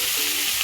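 Chopped spinach dropped into hot coconut oil with crackling mustard seeds gives a steady, close hiss of frying that stays even and unbroken for a brief moment.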